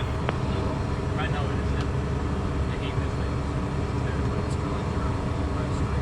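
A Cessna Citation M2 jet roars steadily as it takes off, heard from the cockpit as a broad continuous engine drone, with radio and cockpit voices talking over it.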